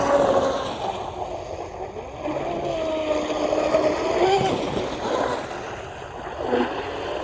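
Blackjack 42 RC boat fitted with a second cooling tube, running on water with a 6S battery: a steady high motor whine and rushing water spray, with pitch shifting as it speeds up and turns, moderately close.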